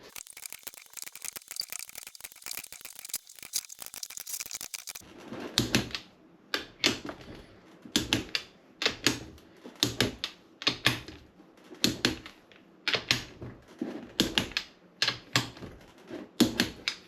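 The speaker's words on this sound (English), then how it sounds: "these cylinder head bolts get torqued to 27 Newton meters" A torque wrench tightens the cylinder head bolts on a Honda CR125 two-stroke engine during a rebuild. Fast ratchet clicking gives way to crisp, rhythmic bursts of clicks, close and with no talk.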